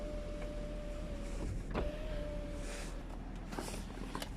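Power windows on a Lexus NX200t motor open and close with a quiet, steady electric whine and a few soft mechanical clunks at the ends of travel, heard close inside the car cabin.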